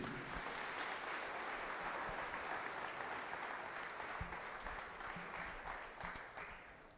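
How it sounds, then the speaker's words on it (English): A university orientation audience gives a big round of applause for the dean. The dense, steady clapping continues throughout, fading slightly toward the end, with occasional louder claps standing out from the crowd. "a big round of applause for your dean"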